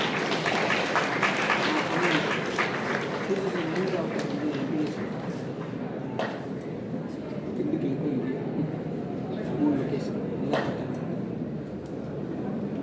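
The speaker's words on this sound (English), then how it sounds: "Let's give a big round of applause for Preksha." Audience applause at a community tech conference event in Madurai, a steady broadband wash of clapping sustained throughout, moderately loud with a few sharper claps standing out.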